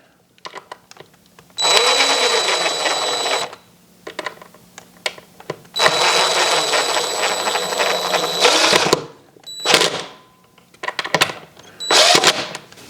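A power drill drives Phillips head screws while mounting woven wood shades, in long steady whirring runs with brief pauses and a few short bursts of the motor near the end.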